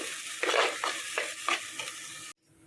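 Ground pepper is stirred and sautéed in a hot pan while making a curry, giving a steady sizzle broken by several distinct scraping stirs, close and moderately loud, ending abruptly.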